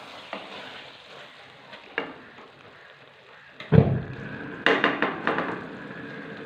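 Aloo gobhi curry sizzles in a pan under a faint, steady hiss, broken by occasional scraping stirs and knocks of a spoon against the pan, with no talking.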